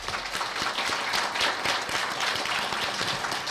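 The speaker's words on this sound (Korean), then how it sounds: "다 같이 응원의 박수를 한번" An audience at a university retirement ceremony and farewell lecture for a chemistry professor claps steadily for a few seconds, a moderately loud, dense patter of many hands with no talk over it.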